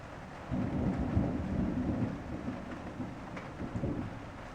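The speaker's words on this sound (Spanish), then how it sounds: "ya está tronando el cielo de Quito" Thunder rolling over Quito, Ecuador, a long low rumble that swells and lingers at a distance, mixed with a steady hiss like rain, with no talking.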